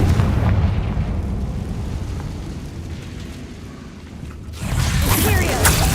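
Confringo blasting spell explosion in the Hogwarts Legacy video game, heard as a loud, sustained rumbling blast with a dense low roar that dips briefly before surging again.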